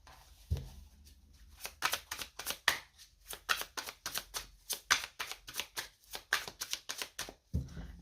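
Tarot cards shuffled by hand, a quick run of crisp riffling flicks in steady rhythm, close but fairly quiet, with no talking.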